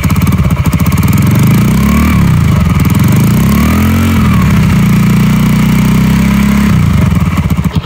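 A Yamaha Jupiter motorcycle engine with a TDR clutch block fitted is revved up from idle, rising and falling in pitch over several throttle blips, loud and close with no talk.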